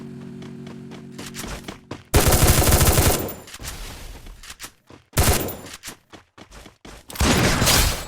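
Gunfire in the Free Fire battle royale game comes in several loud, rapid automatic bursts with quieter stretches between them, with no voices heard.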